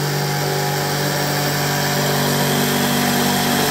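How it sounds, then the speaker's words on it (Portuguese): A jigsaw cuts through material during a motorhome build, a steady, loud mechanical buzz with a constant whine holding unbroken from start to finish. "meu cunhado tá vindo aqui com a tico-tico"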